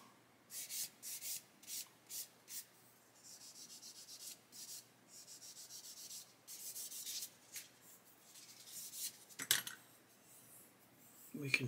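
Polishing a plastic model part by hand: quiet, rhythmic rubbing strokes in short repeated bursts, then longer passes and a few light clicks toward the end.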